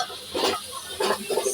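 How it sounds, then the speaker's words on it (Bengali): Turmeric being sautéed in a pan for butter chicken, bursts of sizzling and scraping as a spoon stirs the mixture, in short close strokes with faint hiss between them. "দেব এর মধ্যে হলুদ, ভালো করে একটু কষিয়ে নেব"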